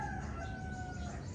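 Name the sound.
chickens and rooster crowing in the morning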